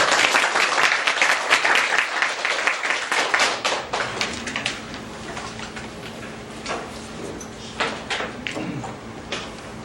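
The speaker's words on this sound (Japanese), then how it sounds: "では盛大な拍手でお迎えください" A seminar audience gathered for a lawyer's legal talk breaks into dense, loud clapping that gradually thins to scattered claps, with occasional tonal noise in the room.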